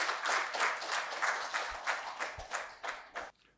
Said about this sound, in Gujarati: આપણે તાળીઓથી વધાવીએ રોહિતભાઈને